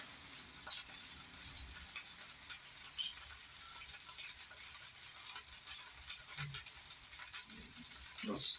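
Steady, soft sizzling of hash browns shallow frying in oil, a constant crackle with occasional faint clicks and knocks nearby.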